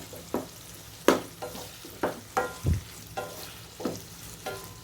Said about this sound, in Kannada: ಇದಕ್ಕೆ ನಾವೀಗ ಹೆಚ್ಚಿಟ್ಕೊಂಡಿರುವಂತಹ 1 ಈರುಳ್ಳಿನ ಸೇರಿಸ್ಕೊಳ್ಳೋಣ. ಇದನ್ನು ಕೂಡ ಫ್ರೈ ಮಾಡ್ಕೊಳ್ಳೋಣ